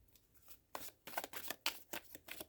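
A long tarot deck, slightly warped by humidity, is shuffled by hand in a quick series of crisp, papery riffling bursts that grow busier and louder after a brief quiet start.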